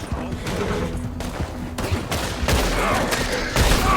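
Rapid gunfire in Red Dead Redemption 2, with dense overlapping shots and low booms that stay loud and steady throughout.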